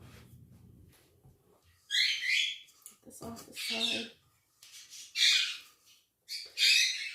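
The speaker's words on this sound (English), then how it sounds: "my African Grey, squawking. She wants out of her cage and she wants attention." An African grey parrot lets out a series of loud, harsh squawks in irregular bursts, close by, with a person briefly speaking between the calls.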